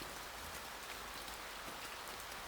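Steady rain falls in a dense, even hiss of countless drops, soft and continuous with no voices or other sounds.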